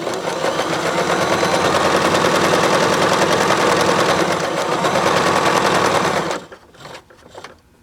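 A Bernette b33 sewing machine runs steadily at speed, stitching a row with a loud, continuous rapid mechanical chatter, then stops abruptly and leaves a few faint handling noises.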